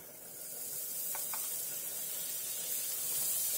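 Salted butter sizzling in a frying pan on the stove, a steady bright hiss that holds from start to finish at moderate level, with no talk over it.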